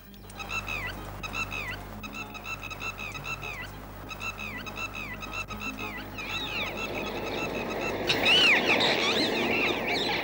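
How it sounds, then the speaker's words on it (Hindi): A bird screeching loudly in the open: repeated harsh, honking calls come in short, rhythmic bursts over a low background hum, growing louder and more frantic toward the end. "वो चिड़िया इतनी जोर जोर से चिल्ला क्यों रही है?"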